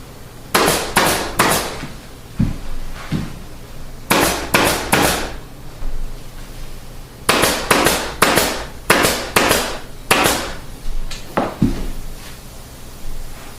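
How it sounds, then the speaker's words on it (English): Upholstery fabric is stapled onto a wing chair frame with sharp, loud staple-gun shots in quick clusters of two to four, separated by short pauses and a few softer knocks. "Then we'll staple this along the front."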